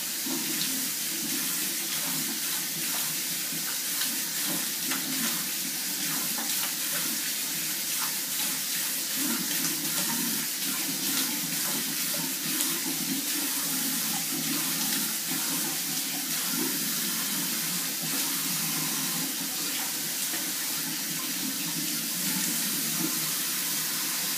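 Steady running water from a tap, splashing continuously into a basin during face washing, loud and close, with no talk over it.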